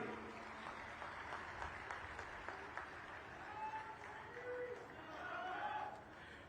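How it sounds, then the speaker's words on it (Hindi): Applause from the audience at a Haryana celebration of Guru Gorakhnath's appearance day, attended by the state chief minister, comes through faint and distant, mixed with crowd chatter and voices. "उनके एक बार तालियां बजा के दोबारा स्वागत करें"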